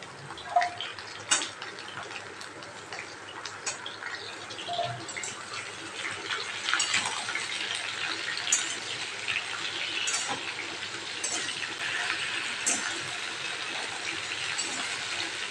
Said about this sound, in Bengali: সজনে ডাঁটা, আলু, বেগুনটাকে ভালো করে ভেজে নিতে হবে অনেকক্ষণ ধরে